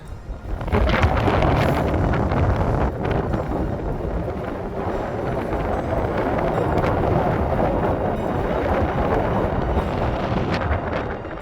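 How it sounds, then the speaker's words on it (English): Strong wind roars continuously on a high mountain summit route on Lenin Peak, buffeting the microphone in a loud, unbroken rush with no voices. "The wind shoved us side to side, and we struggled to keep to the line."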